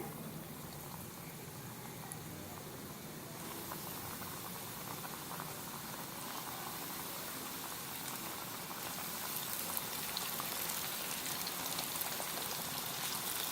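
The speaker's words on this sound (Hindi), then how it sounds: "चिकन को फ्राई करना स्टार्ट करते हैं। ऑयल हमारा गर्म हो चुका है।" Coated chicken pieces deep frying in hot oil for a KFC-style fried chicken, giving a steady, dense crackling sizzle that holds throughout and grows slightly louder toward the end, with no voices.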